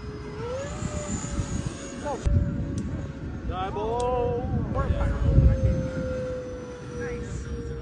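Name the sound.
Freewing PJ50 RC model jet flying stunts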